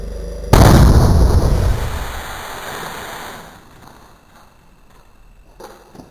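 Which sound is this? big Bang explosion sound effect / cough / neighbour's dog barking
big Bang explosion sound effect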